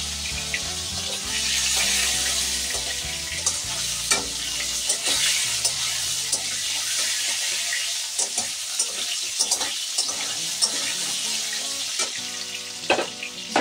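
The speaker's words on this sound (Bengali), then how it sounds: "সামান্য একটু সময় ভাজতে দেবো আলুগুলিকে" Potatoes frying in a pan, a steady close sizzle with intermittent stirring scrapes and clinks of a utensil against the pan, no talking.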